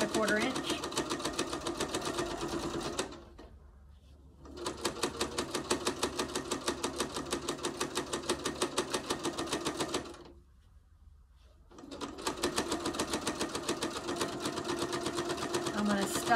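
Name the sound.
sewing machine stitching fabric for a hot pad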